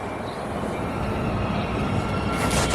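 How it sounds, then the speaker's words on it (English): A loud steady rumble of a Sacramento-bound train rolling past nearby in the Berkeley Hills, broad and continuous, with a brighter metallic hiss swelling near the end. "Oh, and train heard."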